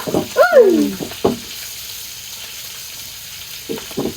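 Pangas fish rubbed with turmeric, salt and chili frying in hot oil, giving a steady close sizzle with a couple of sharp pops early on, briefly overlapped by a short vocal exclamation.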